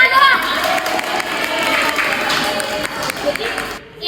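A crowd applauding and cheering for a high school student podcast, a steady wash of clapping and shouts over the whole stretch, with voices mixed in.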